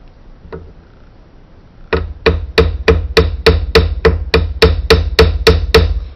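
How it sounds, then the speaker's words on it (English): A riveting hammer strikes a metal jewelry rivet in a steady series of about fourteen sharp, ringing blows, evenly spaced and close, after a brief quiet start with one faint tap. "So I'm going to use a riveting hammer to do that, and I'm going to do it in cross motion."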